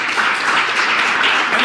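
Audience clapping on a talk broadcast, a dense, steady wash of many hands that fills the whole moment at a loud, even level with no voices over it.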